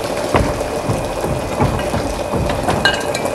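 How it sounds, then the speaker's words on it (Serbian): Steady rain falls outdoors along a city street in Belgrade, a dense even hiss with a few soft thuds scattered through it, and nobody speaks. "Kad bi bar kiša htjela malo da stane"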